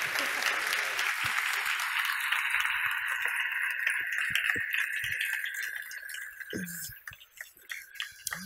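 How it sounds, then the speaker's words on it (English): An audience at the Nordic Game Awards claps for award winners, a broad wash of applause that holds steady, then thins and fades toward the end, leaving a few scattered claps and faint murmurs. "Please give a warm round of applause for them Clapper dudes"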